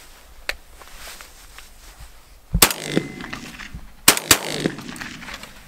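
Shots from a Turkish-made shotgun fired while sighting in for deer season outdoors, two loud sharp reports with ringing decay, each quickly followed by a second crack, after a faint earlier pop and quiet surroundings.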